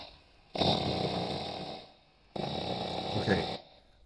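Two long, rough, rasping AI-generated snore-like sounds, each lasting over a second with a short pause between, harsh and fairly loud.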